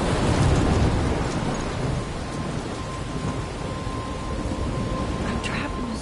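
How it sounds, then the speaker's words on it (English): Thunderstorm in the game Life is Strange: heavy rain hisses steadily throughout with low rumbling thunder strongest at the start, a loud, dense wash of storm noise. "I'm trapped in a storm?"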